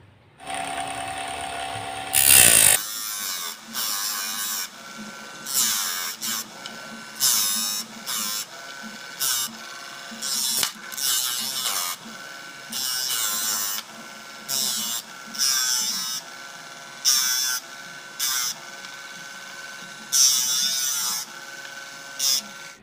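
A small electric drill bores into PVC for a miniature pick-up model, giving repeated short whining bursts of a second or so with brief pauses between them, loud and close.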